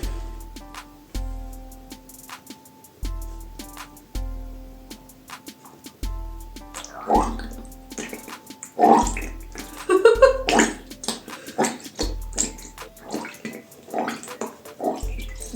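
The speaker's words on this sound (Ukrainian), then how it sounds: "Так, одразу у ванну виливаємо" Thick white PVA glue pours into a bathtub for making slime, giving gurgling, glugging bursts and splashes over a repeating background beat, loudest in the middle section.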